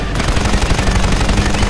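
Sustained rapid gunfire at an aircraft in a video game: loud, dense, continuous shots with a steady rhythmic pulse throughout the brief burst.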